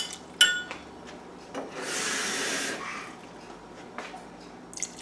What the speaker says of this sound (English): I'm gonna add a good amount of water.